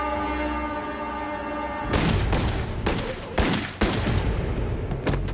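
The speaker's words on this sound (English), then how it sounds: "The younger one, Saeta, pulled out a gun and began to fire at Sal." A burst of gunshots fired at a man in a remote area, several loud sharp cracks in quick, irregular succession after a sustained tonal drone.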